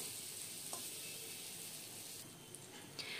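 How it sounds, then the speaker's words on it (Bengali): Ginger paste frying with potatoes in a pan, a steady close sizzle with occasional light stirring scrapes and a couple of soft knocks, no voices. "আদাটাকে এবারে নেড়েচেড়ে নিয়ে 1 মিনিটের জন্য ভেজে নেব"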